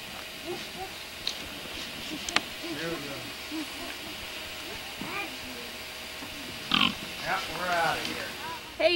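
Pigs on a farm grunt and oink in short bursts, heard near and fairly clear, with people talking over and between the animal noises.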